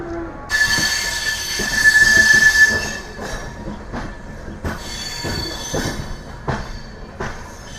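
An Amrit Bharat Express train runs out of Vijayawada Junction with a steady roar of wheels on rail, rising to a loud squeal midway, with rhythmic clacks and thumps at joints, heard close from on board.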